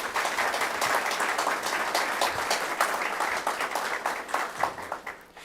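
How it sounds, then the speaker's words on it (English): An audience applauds President Emeritus Father Joseph Levesque at an announcement event, with brisk, close clapping from many hands that holds steady before tapering slightly at the end. "Please give him a round of applause."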